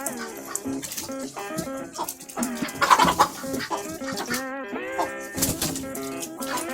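A big-combed hen clucks in the nest on a small farm that raises ducks, a busy run of loud, close clucks and squawks, with other fowl calling around her.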